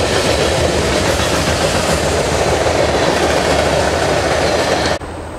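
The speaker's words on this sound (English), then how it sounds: "we're pretty close to the trains." A train rumbles past close to a row of beehives in the open air, a loud, continuous roar with rattling wheels that fills the whole stretch and drops off abruptly near the end.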